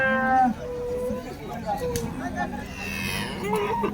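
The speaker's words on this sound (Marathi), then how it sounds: "या अशा गायी या ठिकाणी विक्रीसाठी घेऊन आलेल्या आहे" Holstein Friesian dairy cows at a cattle market in Baramati moo loudly near the start, with more calls and farm animal sounds scattered throughout under steady crowd chatter and talking voices.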